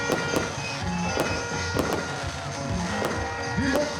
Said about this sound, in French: Des feux d'artifice pour marquer l'entrée dans la nouvelle année.